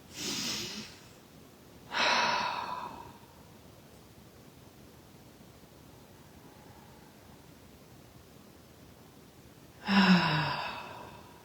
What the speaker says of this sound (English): Let's take 2 letting go breaths.